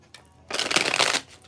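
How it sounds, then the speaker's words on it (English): A deck of tarot cards is shuffled in one quick riffling burst, fairly close and crisp, lasting under a second after a brief quiet start, with no talking. "Come on, let's shuffle."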